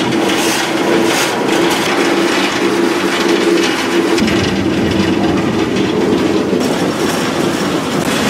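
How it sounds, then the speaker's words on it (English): A loud freight train grinds slowly up a mountain grade in West Virginia, heard from close aboard with continuous rumbling, rattling and metallic screeching, alone without speech. "it's a major grind, and this is a loud train"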